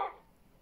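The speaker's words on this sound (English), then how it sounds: "you're hearing loads of dogs" Short dog barks from a Minecraft game, with a bark at the start and another at the end, faint and brief.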